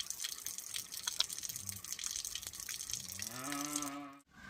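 Water splashed onto the face while rinsing off a face pack, with continuous close splashing and trickling and a brief tonal sound near the end.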